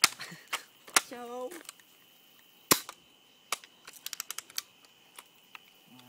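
A BB gun being cocked and loaded gives sharp mechanical clicks and snaps, one loud crack near the start and a quick run of small clicks later, set against quiet pauses.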